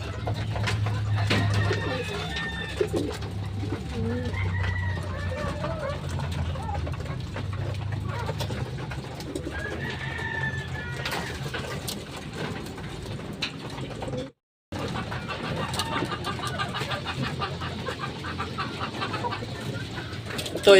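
Racing pigeons cooing low and steadily nearby as they return home, with scattered bird chirps and faint voices, and a brief dropout to silence partway through.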